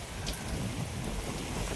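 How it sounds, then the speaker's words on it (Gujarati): Steady rain falls on a windy evening near farm fields, a dense, close, continuous hiss of drops on surfaces with no talking. "વરસાદ ચાલુ થઈ ગયો,"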